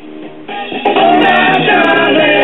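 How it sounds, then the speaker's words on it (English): The same 78 RPM record plays on a 1964 Newcomb record player, its tone-limited music swelling noticeably louder after a moment and continuing steadily and close, with a fuller sound and a light crackle of surface noise. "And now the Newcomb player with the same record."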